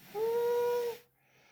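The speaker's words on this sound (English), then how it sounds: "The unknown engine whistled." Steam locomotive whistle from a children's railway story, one steady two-tone blast lasting under a second, clear and fairly loud over light hiss, then dropping to quiet.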